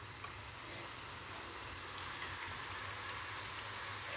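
Maida dough pieces for kara thukada frying in hot oil, a steady broadband sizzle and hiss that holds even and continuous throughout, with no voices over it.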